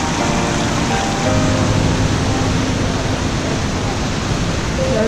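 A roaring, steady hiss of cold water crashes down a waterfall in India, loud and close, unbroken and alone.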